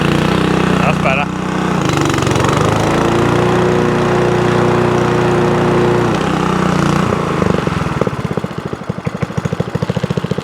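A small petrol engine on a barn-find lawn mower, stored for five years, runs loud and close, hunting and surging unevenly before settling into a rapid stuttering beat near the end, with voices talking over it.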